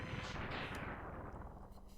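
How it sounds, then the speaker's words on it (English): Boss death explosion from the Mega Man X3 video game, a dense burst of crackling, noisy blasts with sharp retro sound-effect pops layered on top, continuous and fairly loud for a couple of seconds. "get used to these explosion scenes when mid-bosses or bosses die"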